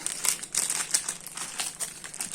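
A plastic bag of flour crinkles close by in bright, rapid rustles and crackles as it is handled, with a few louder crunches and no talk.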